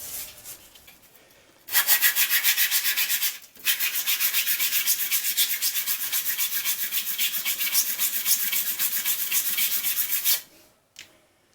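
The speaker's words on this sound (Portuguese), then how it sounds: "Para isso nós vamos utilizar primeiro uma lixa 180." Wooden square frame being hand-sanded with 180-grit sandpaper: loud, rhythmic back-and-forth rasping strokes close by, starting after a quiet moment, briefly pausing, then continuing steadily for about seven seconds before stopping.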